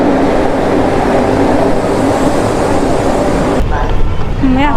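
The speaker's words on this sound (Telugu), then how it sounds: "చూడండి, మన ట్రైన్ అయితే వెళ్ళిపోతుంది. Bye bye Vande Bharat" A Vande Bharat train pulls away from Rajahmundry station with a loud, steady rolling rumble that fades slightly toward the end, where a voice briefly speaks.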